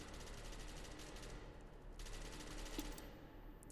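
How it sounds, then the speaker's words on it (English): Rapid bursts of gunfire crackle in a dense, noisy SCP: Secret Laboratory game soundscape, with shots rattling continuously and a few sharper cracks standing out. "I hear some gunshots."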